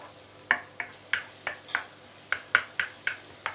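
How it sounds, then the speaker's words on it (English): Roast pork and garlic sauté with leeks in a pan, a faint sizzle punctuated by a regular series of about a dozen crisp spatula taps and scrapes against the pan. "You will saute this probably for about 20-30 minutes."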